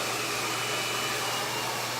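A Salon Pro hair dryer blows in a steady, loud airy roar with a low hum underneath. There is no talking.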